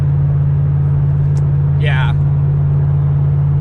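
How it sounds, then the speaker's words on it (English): A Corvette C6 ZR1 with a loud aftermarket exhaust drones steadily at a deep, constant pitch while cruising on the freeway, with a brief voice heard over it. "This car is just so loud. I don't know how people can tolerate this exhaust system on a daily basis."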